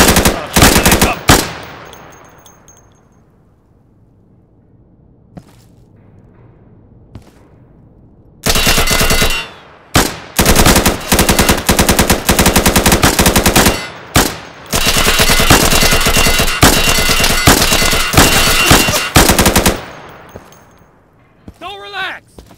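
Automatic gunfire from the video game Insurgency, loud close bursts that break off and resume, with long sustained volleys in the second half and quieter gaps between them.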